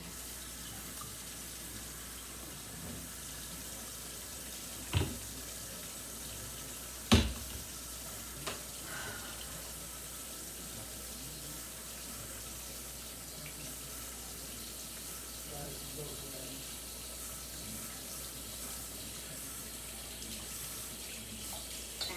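Water runs from a kitchen tap in a steady, soft hiss with a couple of brief knocks and clatters partway through, close by and without talk.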